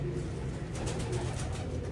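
Red Toofan dub pigeons coo softly in a low, steady murmur, with a continuous background hiss and no clear separate calls.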